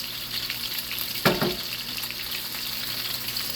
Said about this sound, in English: You see how it's still frying?